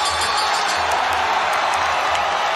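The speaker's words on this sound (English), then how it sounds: "The crowd going bananas in Singapore for him" A crowd at a mixed martial arts fight in Singapore roaring and cheering in a continuous loud wash of noise, steady and dense throughout with no clear individual voices.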